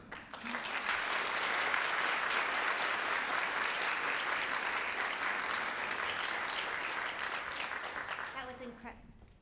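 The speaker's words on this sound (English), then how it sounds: "one more round of applause for Monica" Sustained audience applause at a community forum, a dense, steady clatter of many hands clapping for about eight seconds before fading out, with a brief voice at the very end.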